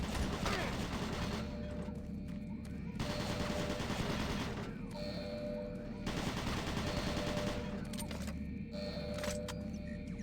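Automated turret guns firing in Doom 3, loud rapid bursts of mechanical gunfire in three long stretches separated by short pauses, with a faint voice present.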